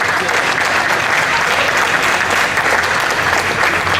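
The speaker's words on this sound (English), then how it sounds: "We have to give them a round of applause" A crowd at the Hmong Wausau Festival gives a loud, dense round of applause, steady clapping from many hands filling the whole stretch.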